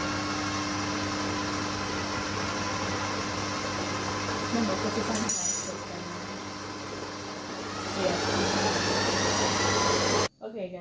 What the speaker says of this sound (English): It's in our food processor, and we're gonna go now and just blend it up to get a smooth consistency